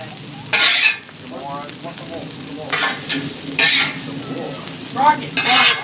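Potatoes and kielbasa sausage sizzle on a Blackstone griddle, with a soft steady fry beneath several sharp scraping bursts from a spatula turning the food.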